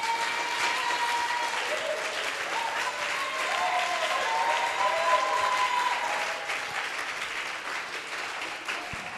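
A church congregation applauds in a sustained wash of clapping that holds steady throughout, with faint voices and tonal sounds mixed beneath the crowd.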